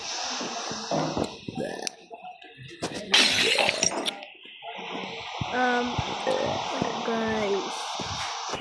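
Triplex laminated glass shatters and crunches loudly in repeated bursts, with crackling fragments, while voices talk and exclaim throughout.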